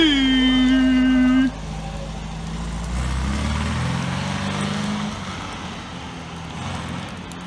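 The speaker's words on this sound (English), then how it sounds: "Somebody's first drive in the MGB-GT." A 1973 MGB GT gets under way, a short sustained tone giving way to a moderate, fairly steady engine and road rumble as the car drives.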